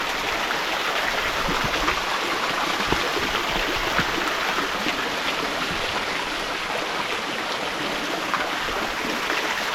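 Hot spring waterfall pouring into a deep, warm natural pool, giving a steady, dense rush of falling water that holds at a constant level throughout, with no voices.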